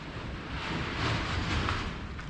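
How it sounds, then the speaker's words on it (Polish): Strong wind buffets the microphone, producing a continuous rough roar that swells and eases without other sounds. "wiatr dzisiaj mocny jest"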